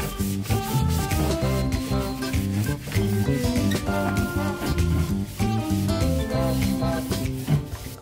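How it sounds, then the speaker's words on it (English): A magic eraser scrubs marker off a painted wall in continuous, vigorous rubbing strokes, close and steady for the whole stretch, over a tonal background. "For the marker on the wall, magic eraser."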